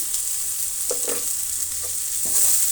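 Onions fry with salt and crushed garlic in a pan, a steady close sizzle with a few soft stirring scrapes over the top.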